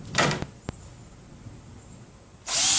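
A power drill boring screw holes in half-inch wood pieces for kitchen cabinet sink base doors and drawers, one short whirring burst, a sharp knock, a quiet pause, then the drill spinning up again close by.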